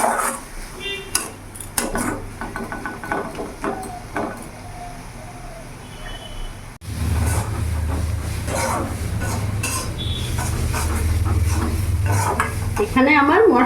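Okra masala spices sautéed and stirred in a pan for dhaba-style bhindi fry, with steady close sizzling and the scrape and clink of a spatula against metal, growing louder and denser partway through.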